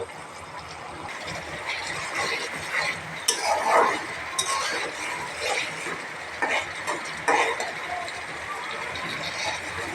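Spice masala with bay leaf, cardamom, clove and cinnamon is sautéed for chicken, a steady sizzle broken by scraping and clinking of a spoon against the pan, with a voice talking intermittently.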